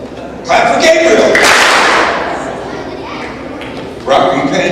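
Schoolchildren at a fitness challenge clap once in unison, one sharp burst that rings briefly, with a voice speaking loudly around it.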